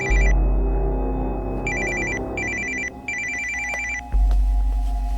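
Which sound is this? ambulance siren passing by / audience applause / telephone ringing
telephone ringing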